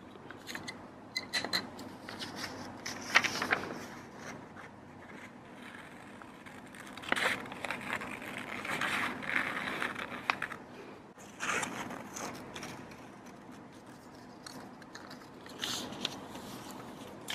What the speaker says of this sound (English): And now we are going to cut. I'm using my scissors from Studio Ghibli.